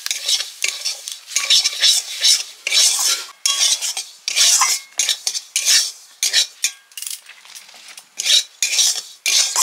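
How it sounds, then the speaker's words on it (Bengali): Semolina being fried in ghee for halwa, stirred briskly with a metal spoon in a pan, giving rhythmic scraping bursts with short pauses between strokes and a soft sizzle underneath, close and clear, no speech. "সুজির হালুয়ার জন্য সুজিটা লাল লাল করে ভেজে নিচ্ছি"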